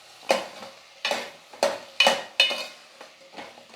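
Onions and tomatoes sautéing in a pan, five distinct spatula strokes scraping the pan at roughly even intervals over a faint sizzle, close and clear with no talk.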